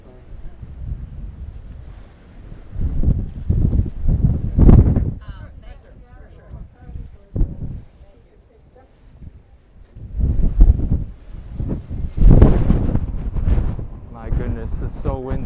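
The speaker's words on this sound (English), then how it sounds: "My goodness, it's so windy." Strong gusting wind buffets the microphone on an exposed mountain hiking trail near a summit tower in New York, roaring in loud bursts with brief lulls, while a person speaks and exclaims between the gusts.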